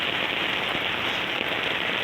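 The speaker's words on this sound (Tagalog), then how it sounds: "Walang tigil ang ulan" Heavy rain pours down steadily on hard surfaces outdoors, a dense, loud, unbroken hiss with no talk over it.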